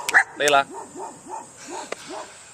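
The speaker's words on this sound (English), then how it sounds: "obviously you can hear my dogs are going crazy" Several dogs barking and yipping at home, a couple of sharp barks followed by a run of repeated softer rhythmic yips and whines, mid-distance and fairly faint.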